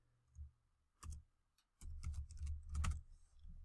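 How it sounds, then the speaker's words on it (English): Keys click on a computer keyboard as a business name is typed, a few isolated taps followed by a quicker run of faint, close keystrokes. "You just start typing your business name in here"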